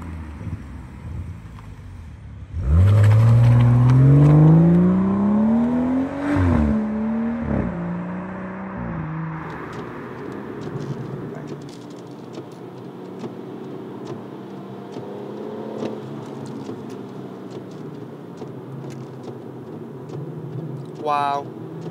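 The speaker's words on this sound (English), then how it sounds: "this is a 500 newton meter rear wheel drive hot hatch" Rear-wheel-drive hot hatch with 500 newton metres of torque on Michelin Pilot Sport 5 tyres, the engine loudly revving up through the gears and then settling into a steady road and wind rumble, with someone talking over it.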